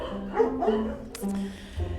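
An abandoned puppy at a dog shelter gives a short burst of yips and whimpery barks, close and fairly loud, with a voice briefly present.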